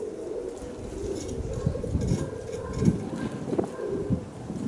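Strong wind rushes across an open-air microphone where homing pigeons are flying, a rough, gusting roar with a few soft pigeon coos breaking through.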